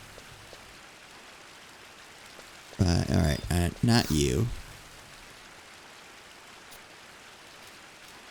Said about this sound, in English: Oh, that rain sound effect in here is so cool.